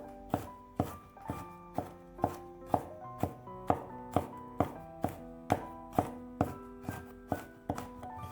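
A knife minces garlic on a cutting board in steady, evenly spaced chops, about two per second, each a crisp thunk. Tonal background music plays throughout.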